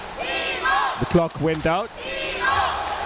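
Crowd noise at the DIMO vs Legacy Health F Division men's basketball final, a broad rhythmic chant from the stands rising and falling throughout, with a commentator talking clearly over it in the middle.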